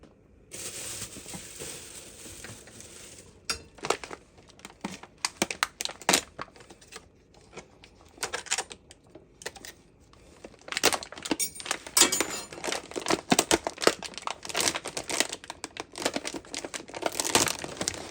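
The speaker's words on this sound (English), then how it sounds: "I can get the package open." A plastic package of 20-ounce three-cheese tortellini being opened, with irregular crinkling and tearing bursts that start sparse and become busier, close to the microphone.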